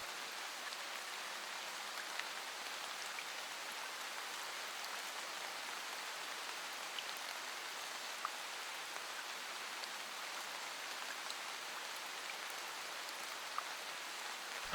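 Steady rain falls on a surface, a soft even hiss of drops with no breaks, faint and constant throughout, with no voices.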